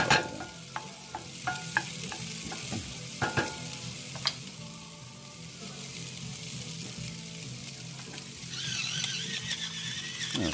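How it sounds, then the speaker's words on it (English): Garlic frying in a pan for a meat sauce, a steady low sizzle under sharp clicks and scrapes of stirring, growing a little louder and hissier near the end, with no one talking. "That all mixed around, get that garlic cooking, that smell going."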